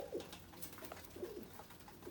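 Soft, low pigeon coos repeat at a relaxed pace, fairly close on a balcony, over faint background noise.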